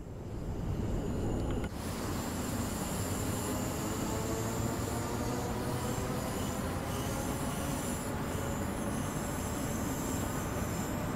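A train in a rail simulator game runs steadily with a continuous rumbling roll and high metallic wheel squeal, loud and close, with a brief clunk near the start.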